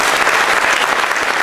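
A graduation audience at the NUS Commencement 2010 gives a dense, steady round of applause, loud and close, filling the whole moment with continuous clapping and no talking.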